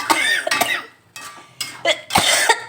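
A series of harsh, loud coughs from eating spicy food, in close succession, several bursts separated by brief pauses.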